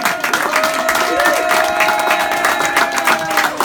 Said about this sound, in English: A big cheer, please, come on!